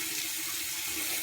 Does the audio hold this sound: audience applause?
no